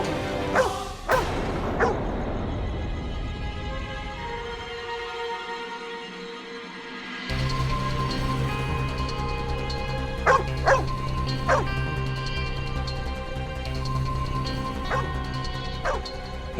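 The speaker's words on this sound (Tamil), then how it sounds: "இந்த நாய் ஏன் இப்ப இவ்வளவு சத்தமா குறைக்குது?" A dog barks in a few sharp bursts early on, then yelps and whimpers, followed by a quieter stretch with scattered thuds and clicks in a room.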